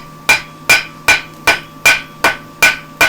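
A farrier hammers a horseshoe at the forge, eight sharp metallic strikes in a steady, evenly spaced rhythm, loud and close with ringing decay between blows.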